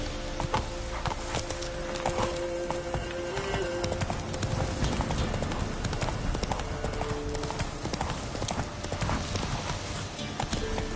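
Roach, the horse in The Witcher 3 video game, gallops with a steady, rapid clip-clop of hooves that runs throughout, close and constant, with game music and brief spoken lines over it.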